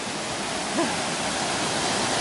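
An upper waterfall on a mountain hike in the North Island ranges gives off a steady, even rush of falling water that fills the whole short stretch without a break.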